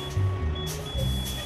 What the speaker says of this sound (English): your low pressure alarm or light should kick in.